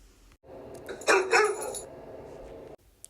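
A dog barks and yips in a short burst, a couple of sharp, close calls in the middle followed by a brief whimpering tail, with no talking.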